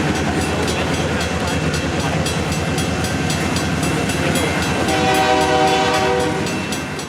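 Northbound freight train with four locomotives, pulling over 24 cars, climbing a steep grade out of the Marietta Valley on the Georgia Northeastern Railroad, engines wide open in a loud, steady roar with a sustained horn blast near the end.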